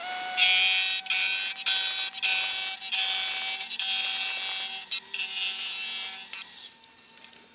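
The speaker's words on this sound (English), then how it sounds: "the negative rake scraper is going to just make very, very short work of, you know, cleaning up anything on here" Negative rake scraper cleaning up hardwood on a spinning lathe: a loud, close, continuous high-pitched scraping hiss with brief breaks as the tool lifts, tapering off toward the end.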